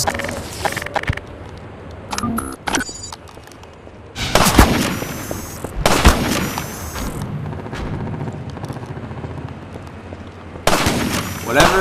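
Heavy, powerful weapon fire aimed at the player in the video game Half-Life 2: loud booming blasts and bursts of shots come in irregular waves over a constant battle din.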